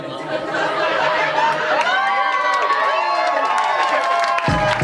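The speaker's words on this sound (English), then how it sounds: "I love that you cheer while we're spitting this close to the stage" A crowd close to the stage cheering and shouting during a freestyle rap set, a continuous mass of whoops and excited voices that stays loud throughout before cutting off abruptly near the end.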